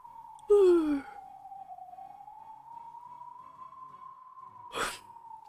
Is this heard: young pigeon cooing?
no